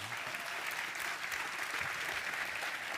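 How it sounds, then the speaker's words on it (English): A conference audience at SmashingConf Antwerp gives steady, even applause for speaker Jason Mesut, a continuous wash of clapping with no voices. "please give a round of applause to Jason Mesut"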